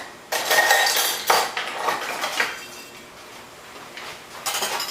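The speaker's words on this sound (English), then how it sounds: "let me just grab my whisk" Metal kitchen utensils clatter and clink as a whisk is grabbed from among them, a few sharp bursts of jangling near and fairly loud, then fading to lighter rattles.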